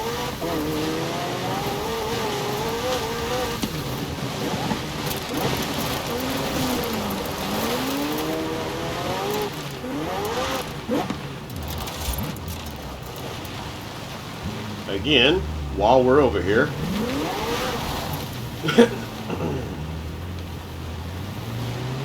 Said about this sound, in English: We might as well just hang out in the McLaren and drive up there.